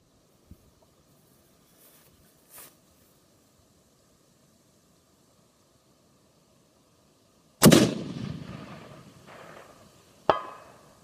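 A DTA SRS A1 bolt-action rifle in .338 Lapua Magnum fires once at a 700-yard target in high wind, a loud, sharp blast with a decaying rolling echo, followed by a second sharp crack a few seconds later.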